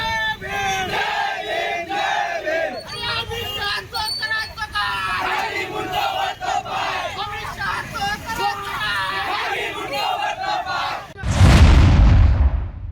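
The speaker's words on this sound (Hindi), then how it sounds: "इस अवसर पर आंदोलनकारियों ने जोरदार घोषणाबाजी की।" Protesters shout slogans loudly and continuously as a dense crowd, many voices overlapping in rhythmic chanting, before a sudden loud rumbling burst near the end, at a demonstration where an effigy was paraded and burned.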